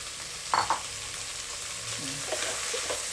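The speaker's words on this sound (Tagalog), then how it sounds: "Kaya, parang piniprito lang. Kaya stir fry." Squid and bell pepper stir-frying in a pan, a steady close sizzle with a few louder clatters of stirring near the start and light scraping later.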